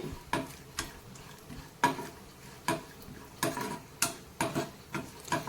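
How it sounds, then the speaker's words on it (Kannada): Raisins frying in ghee for apple kheer: a spoon taps and scrapes the pan in sharp, irregular knocks about every half second, over a faint, soft sizzle. "ಒಣ ದ್ರಾಕ್ಷಿ ನಾವು ನಾವಿಲ್ಲಿ ಇದನ್ನು ತುಪ್ಪದಲ್ಲಿ ಫ್ರೈ ಮಾಡ್ಕೋಬೇಕಾಗತ್ತೆ"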